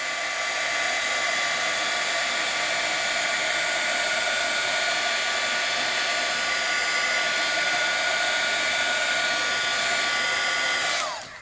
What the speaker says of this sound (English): Throw a little heat on that just so it dries.